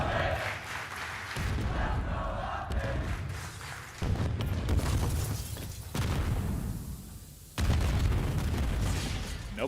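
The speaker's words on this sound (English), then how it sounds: "Nobody dead yet, just explosions all over the map as the utility thrust into it" Explosions in a Call of Duty League Major III tournament match boom one after another across the map, a string of heavy bursts and blasts mixed with a caster's voice.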